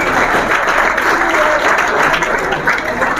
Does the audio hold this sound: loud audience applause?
yes